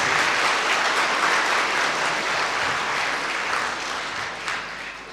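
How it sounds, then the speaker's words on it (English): A symposium audience on parliamentary politics applauds the speakers, a dense, steady wash of many hands clapping at once that stays loud throughout and tapers slightly toward the end, with no talk over it. "Can we have a big round of applause for all the speakers, please?"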